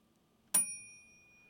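A single bright bell ding is struck once as a cartoon sound effect. It rings out clearly against near silence and then fades with a long shimmering decay.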